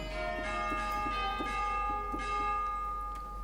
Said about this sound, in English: So that's where I got the chimes from